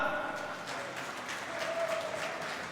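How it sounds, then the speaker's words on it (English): Audience applause at the StarCraft 2 Swiss Gaming Challenge Finals in Basel, honouring the tournament runner-up: steady, moderate clapping from a crowd, fairly distant and even, with faint tonal sounds running under it. "please a round of applause for your runner-up of the Starcraft 2 Swiss Gaming Challenge Finals, Railgun."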